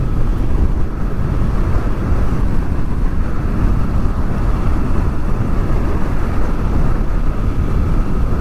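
Headwind roaring past a rider on a Honda VFR800 motorcycle on open roads near Caldbeck and Mungrisdale: a loud, constant, low buffeting rush that never lets up, with no voices.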